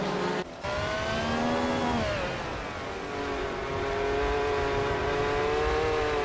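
McLaren M26 racing car engine in a racing video game, a steady high-revving whine with rising and falling harmonic pitch, loud and continuous after a brief dip near the start.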